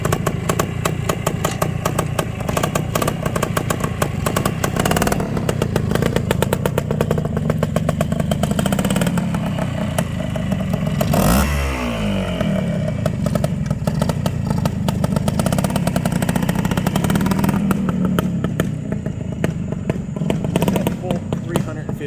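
A classic Ossa 350 BLT Plonker big-bore two-stroke motorcycle runs close and loud, its rapid crackling exhaust steady with a brief rev swell midway, and a voice sounds over it.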